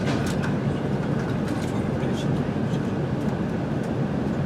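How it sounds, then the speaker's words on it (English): A Pendolino electric train running on the newly electrified line to Blackpool North, a steady, loud rumble of rolling wheels and motor noise throughout with faint rail clatter, no speech over it. "Which means Pendolino is now running to Blackpool North."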